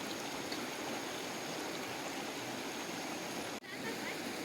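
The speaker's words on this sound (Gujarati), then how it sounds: "પાછળ નદી જાય છે" A river flows close by, giving a constant, even rush of water with no breaks, steady and fairly loud throughout.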